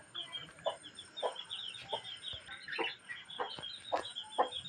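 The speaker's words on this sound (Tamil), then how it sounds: "குஞ்சு பிடிச்ச கோழி" A broody hen with three chicks, about one and a half weeks old, clucks in a soft, evenly spaced series inside a shed, with a faint insect-like hum in the background.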